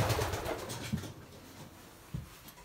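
Young pigeons in a breeding loft give soft, low cooing calls in a few short bursts, with rustling and movement in between and a brief louder coo near the end.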